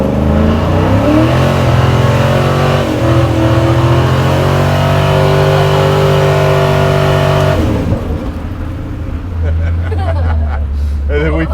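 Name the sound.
custom slammed Chevy C10 truck doing a burnout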